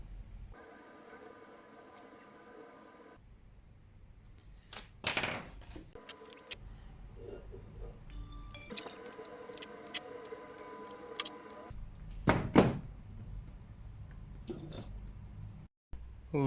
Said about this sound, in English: now we're gonna make some holes